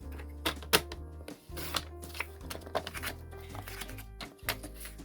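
A paper trimmer cuts cardstock for a stepper card, with steady close scraping and rustling broken by sharp clicking taps, some louder clacks standing out.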